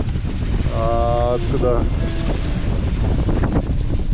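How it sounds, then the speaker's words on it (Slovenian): Strong wind buffeting a sailboat anchored at Raroia atoll as a storm approaches, a steady loud rushing roar with someone talking over it. "Se pa ena nevihta bliža, že kar fajn piha."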